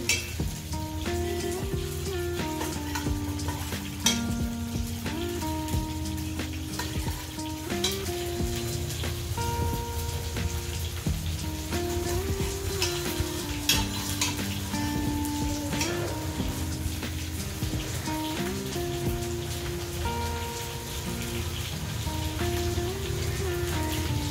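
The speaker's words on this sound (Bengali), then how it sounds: "মূলা 2টা, সিম, আলু নিলাম 2টা, এরকম সব মিলে এখানে দিয়ে রান্না করতেছি" Radish, flat beans and potatoes, along with cauliflower and carrot, cook in a pan with a steady, close sizzle that runs throughout without talk.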